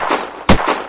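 A single sharp, loud gunshot from a semi-automatic gun in the video game Unturned bursts out mid-moment, set against a steady wash of background game noise.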